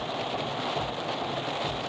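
Heavy rainstorm pours down as a dense, steady hiss of rain, continuous and close with no voices.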